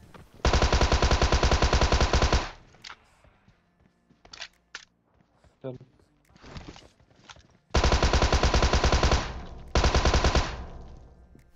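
Tommy gun fired in a video game, heard as loud, rapid automatic bursts lasting about two seconds each, with quieter clicks and footsteps between them.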